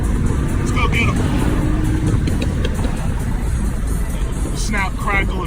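Mopar muscle car at the Northeast Mopar Festival, its exhaust rumbling loudly and continuously up close with sharp crackles and pops, while someone talks over the engine noise.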